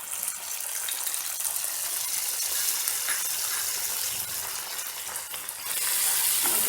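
Schezwan rice sizzles in a pan over a low flame as soy sauce is stirred through it, a steady close crackling hiss with scraping stirs and a louder burst of sizzle near the end.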